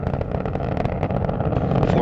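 Space Shuttle Atlantis's three liquid-fuel main engines thunder during launch, a dense continuous crackling rumble, loud and unbroken, with a narrator speaking over it.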